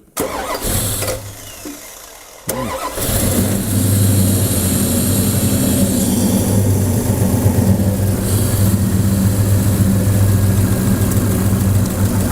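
Car engine fitted with a Holley Terminator EFI cranks briefly with a whirring starter, catches, then settles into a loud, steady, rumbling idle that continues throughout.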